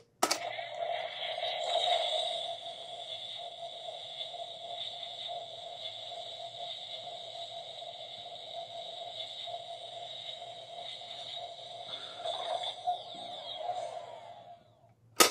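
A steady electronic whine and buzzing hum from a Ghostbusters Spirit toy ghost trap, held continuously for a long stretch with faint crackling, ending in a sharp click.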